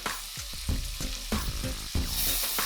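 Scallops sizzle and fry in a pan alongside sausage for a Creole seafood gumbo, a steady close crackle with stirring bursts throughout and no talking.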